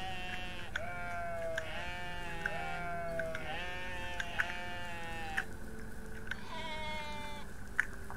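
Sheep in the video game OneShot bleat repeatedly in wavering, slightly warbling calls, several overlapping bleats at moderate volume over a low background hum.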